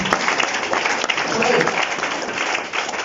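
A church congregation applauds and cheers for the Lord, a dense continuous wash of clapping and crowd voices filling the room throughout, with a worship leader's voice sounding faintly above it.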